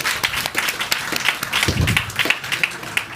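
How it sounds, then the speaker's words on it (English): An audience at a panel discussion gives a short round of applause, moderately loud, uneven clapping that runs steadily through the moment. "Give them a round of applause,"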